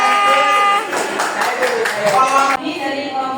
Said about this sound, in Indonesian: Oke, tepuk tangan kelompok ketiga.